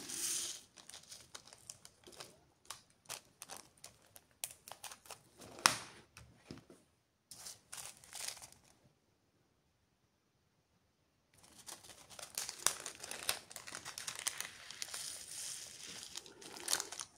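Plastic sachet from a mini craft kit being handled, dense crisp crinkling and rustling in bursts at close range, pausing into near silence midway before resuming steadily.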